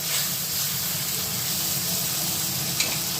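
Ginger, cumin and chili paste sizzling in hot oil while cooking kalai dal, a close steady frying hiss lasting throughout with a small clink near the end.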